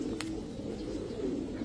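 An Iranian pigeon coos steadily at close range: a low, continuous rolling coo with one brief sharp click early on.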